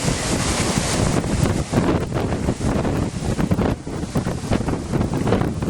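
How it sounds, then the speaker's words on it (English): Strong wind gusts from Hurricane Sandy on the Connecticut coast roar steadily and loudly across the microphone, with surging buffets and rushing water beneath, no talk. "Big gust."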